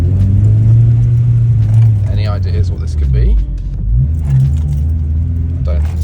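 A faulty Honda Civic Type R EP3 engine revving on its own with no pedal input, a loud close rumble rising and falling unevenly while someone talks over it.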